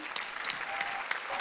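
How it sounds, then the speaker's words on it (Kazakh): Applause from an audience at a children's stage show in Almaty, a brief burst of scattered clapping at moderate loudness, with individual claps standing out against a low hum. "шапалақтарыңыз құрметті достар"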